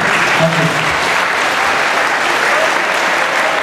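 Audience applause fills a dance school gala hall, a steady dense wash of many hands clapping at close range with a faint voice briefly audible underneath.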